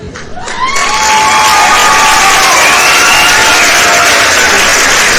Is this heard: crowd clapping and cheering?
yes